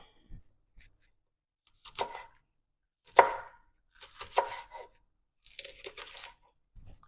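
A knife chops garden salsa vegetables on a board in a few separate bursts of crunchy cuts with quiet pauses between, close and fairly faint, the blade dull.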